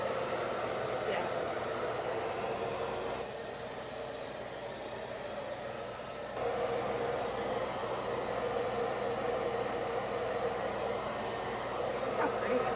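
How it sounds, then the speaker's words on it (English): A hair dryer blows steadily on a handmade wood wreath craft, a continuous whooshing whir at moderate level that shifts slightly in tone as it is moved, lasting throughout. "You may have to dry it with the hair dryer for a minute right before we put them on"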